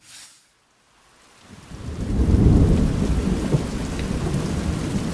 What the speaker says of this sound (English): We already got thunderstorms, so I'm liking this already.